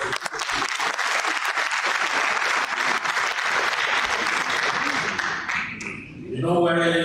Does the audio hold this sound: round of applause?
yes